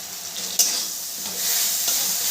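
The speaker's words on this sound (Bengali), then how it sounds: "এবার মশলাটাকে আমি ভালো করে কষিয়ে নেব। এখানে আমি আরও 1 চামচের মতো ঘি দিয়ে দিলাম।" Spice paste sizzling in ghee in a pan for Bengali egg korma, a steady bright frying hiss with a spoon scraping and stirring through it, close and continuous, no voices.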